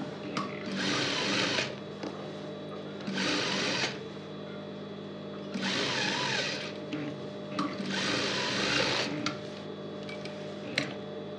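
A sewing machine stitches a coat lining in several bursts of rapid whirring, each a second or two long, separated by short pauses with faint handling noises in between.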